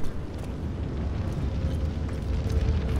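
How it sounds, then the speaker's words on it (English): Explosions in the video game Hard Reset, heavy low rumbling blasts rolling one into the next at close range, loud and continuous. "I seem to be taking a lot of damage from those explosions"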